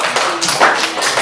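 Classroom of primary school children applauding together, a close, steady patter of many small hands that runs loud and unbroken for about a second.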